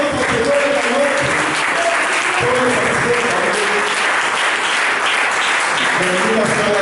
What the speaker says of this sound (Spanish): Denle fuerte aplauso al Señor esta noche